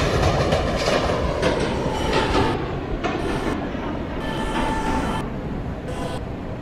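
New York subway E train rolls along the rails with a continuous loud rumble and rattle, faint squeals and clicks over the steady roar, no voices.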